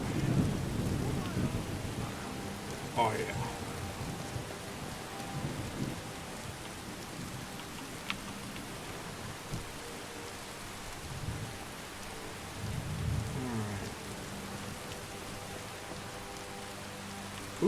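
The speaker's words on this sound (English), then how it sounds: "Damn, that thunder sounds crisp." Rain falls steadily in Skyrim while heavy rolls of thunder rumble low and deep, several booming swells rising over the hiss of the downpour, with a brief spoken remark at one point.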